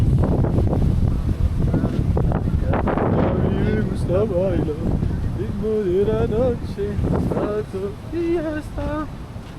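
Wind buffets the microphone with a constant low rumble as a person talks through it, the gusts staying loud beneath the voice.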